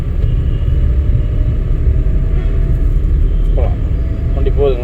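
Car rolling along during a driving lesson, a steady low rumble of engine and road noise throughout, with an instructor talking over it.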